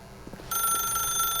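A telephone in The Stanley Parable starts ringing after a half-second of quiet room tone, a bright, steady electronic bell trill that continues loud to the end.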